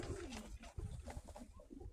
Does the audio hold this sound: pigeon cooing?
yes